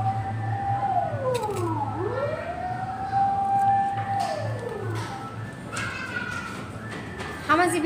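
A toy fire truck's wailing siren rises and falls in repeated sweeps, played indoors under children's chatter and background talk throughout.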